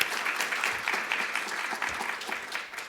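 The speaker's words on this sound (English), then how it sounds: "give a big round of applause for Ashley" Audience applause at the close of an NR2F1 conference, a short burst of many hands clapping steadily and fairly close, with no voices heard.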